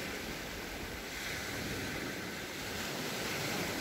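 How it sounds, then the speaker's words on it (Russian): Waves washing onto a beach in Turkey where people swim and sunbathe, a continuous broad surf rush with wind noise across the microphone. "Пляж. Отдыхают, люди лежат, загорают."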